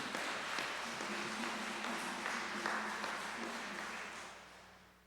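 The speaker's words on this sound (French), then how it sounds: "Applaudissez-les, s'il vous plaît." A congregation at a morning Mass applauds, a dense, sustained wash of clapping from many hands in a reverberant church that fades gradually toward the end.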